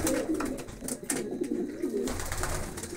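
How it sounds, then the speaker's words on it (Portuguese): Pigeons coo in a steady, overlapping chorus from a loft of newly arrived birds, soft throaty rolls repeating close by with faint rustling and no talk. "Mostrando a pombada, hein."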